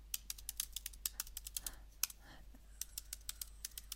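A WordPress username is typed on a computer keyboard in quick, irregular bursts of light key clicks, fairly faint against a low steady hum, with a short pause in the middle.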